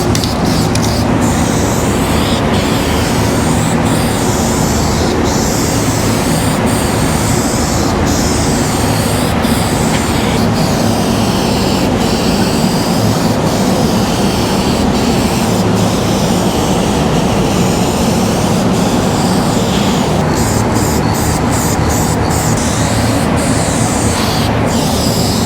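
Rattle can spray painting a second coat of green onto a car panel gives a loud continuous hiss, with sharp intermittent clicks and bursts of nozzle spray across the whole stretch.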